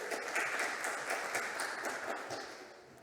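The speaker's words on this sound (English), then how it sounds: "An applause." A conference audience applauds steadily, dense clapping from many hands that fades slightly toward the end, with no speech over it.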